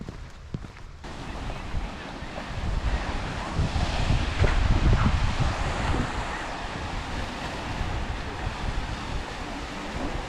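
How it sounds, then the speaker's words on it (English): Strong waves on a freshwater Lake Superior beach at Pictured Rocks in Michigan's Upper Peninsula, surf crashing and washing steadily under heavy wind buffeting the microphone, a constant loud roar with no voices. "Some pretty strong waves, huh?"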